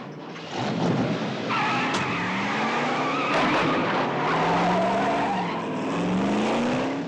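A car driven hard in a movie chase, its tires squealing and skidding in long wavering whines over a roaring engine, loud and close throughout with no talking.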